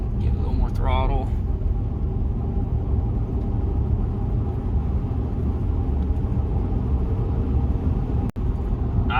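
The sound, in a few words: car engine accelerating as throttle is applied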